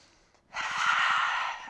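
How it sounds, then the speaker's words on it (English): A deep inhale during a gentle postpartum stretch: after a brief pause, a long, breathy intake of air begins and holds steady for over a second, close and fairly loud with no talking. "And take a big inhale."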